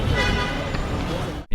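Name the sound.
car horns honking in a busy Egypt street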